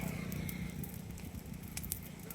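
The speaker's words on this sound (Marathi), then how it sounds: "पाहू शकता किती मोठी भीषण आग लावलेली आहे" A large mangrove fire burns with a steady roar and scattered sharp crackles and pops. It is loud and continuous, and no one speaks.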